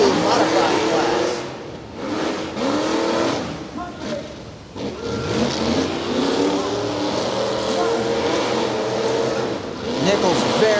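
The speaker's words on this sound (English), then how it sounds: "Pair of Foy Toy Broncos going at it here in round 2, modified class." Modified-class Ford Bronco tough trucks racing in a pair in a motorsport event at Brookville, Pennsylvania, engines roaring and revving loudly with surging acceleration, heard under an excited announcer's commentary.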